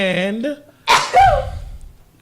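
A person sneezes loudly once right after a short spoken word, a sharp burst followed by a breathy exhale, close to the microphone in a podcast setting.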